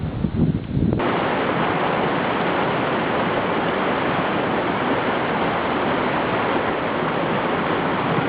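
A mountain torrent rushes loudly and continuously on a Dhaulagiri expedition, a dense, steady roar of flowing water heard up close after a brief rougher start.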